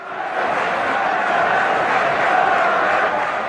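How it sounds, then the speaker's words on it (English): Steady, dense roar of a football crowd filling the stadium at an FA Cup fourth-round match between AFC Bournemouth and Crawley Town, loud and continuous with no single voice standing out. "whilst we've got the crowd sound in the background, let's have a listen in"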